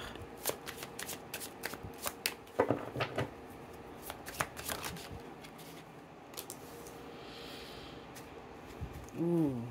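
Tarot cards are shuffled by hand in a string of crisp riffling bursts and soft slaps, close and fairly quiet, with brief pauses between shuffles and a short voice near the end.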